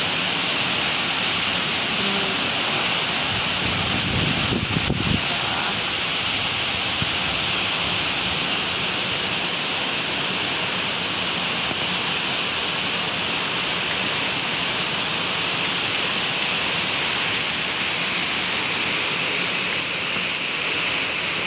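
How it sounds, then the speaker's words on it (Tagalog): Steady, dense roar of typhoon rain and strong wind, constant and loud throughout, with a brief thump near the start. "Sobrang lakas na hampas ng hangin."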